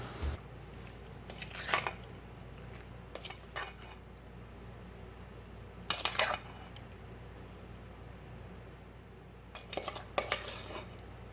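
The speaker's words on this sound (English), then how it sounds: "I'm going to spoon those over top of the batter mixture" Blackberries are spooned over cobbler batter in bursts of metal spoon clinks and scrapes against a dish, separated by quiet pauses over a low background hum.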